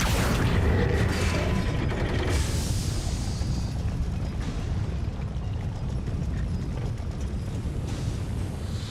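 A Confringo explosive spell in Hogwarts Legacy unleashes a loud, heavy blast. It rolls into a dense, rumbling roar that slowly tapers off.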